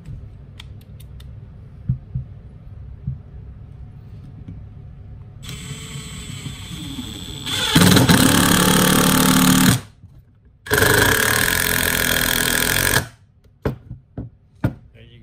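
A drill drives a 2.5 inch large diameter stainless screw, not pre-drilled, into Southern Yellow Pine with a Phillips bit: a faint start, then two loud sustained grinding bursts with a short break, ending in a few clicks.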